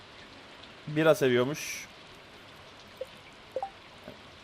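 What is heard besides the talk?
rain in video game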